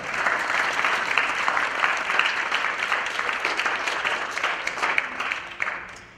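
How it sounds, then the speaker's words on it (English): An audience at a high school National Honor Society induction ceremony gives a sustained round of applause, a dense, steady patter of many clapping hands filling the hall for several seconds before it begins to thin out. "give her a round of applause also"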